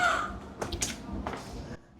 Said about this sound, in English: Was that a bird? I think so.